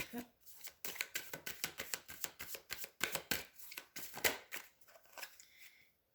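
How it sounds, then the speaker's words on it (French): Tarot cards shuffled and drawn from a deck, a quick run of crisp riffling snaps and flicks close by, with brief speech between the card sounds. "je vais prendre encore une carte"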